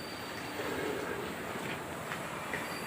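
A goods train rolls through Kantabanji railway station with a steady, fairly quiet rumble and no clear clatter or horn, heard alone without talk.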